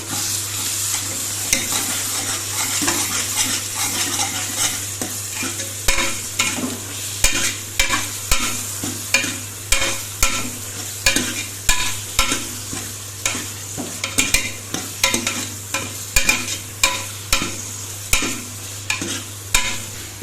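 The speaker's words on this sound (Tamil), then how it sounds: "வெங்காயம் தக்காளி எல்லாம் நல்லா வதங்கிடுச்சு." Onion, garlic and tomato sautéing in a pan for a Tamil fish curry, with a steady close sizzle broken by repeated sharp spoon scrapes and stirring knocks throughout.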